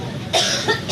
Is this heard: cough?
yes